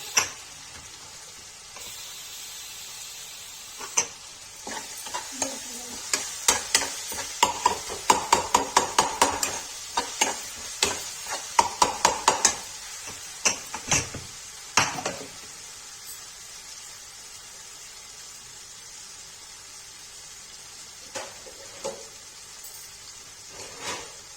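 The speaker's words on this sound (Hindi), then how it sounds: "देखिए मसाला अच्छे से भून गया है" Masala frying and being stirred in a pan for traditional Kashmiri chana dal. A quiet sizzle runs underneath a long run of sharp, rhythmic scraping taps from the spoon, which fade to occasional knocks near the end.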